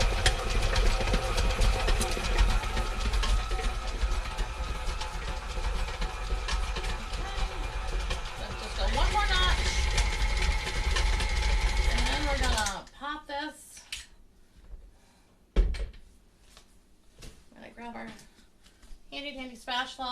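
Stand mixer churning snickerdoodle dough on its lowest speed, a loud continuous motor whir with gear rattle that stops partway, followed by scraping and a spoken voice.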